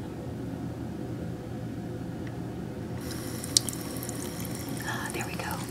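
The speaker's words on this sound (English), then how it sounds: "So I'm just gonna turn on the water very slowly." Bathroom sink tap opened slowly in a whispered hand-washing session, a soft steady stream of running water swelling into a brighter splash as it flows down the drain, close and continuous.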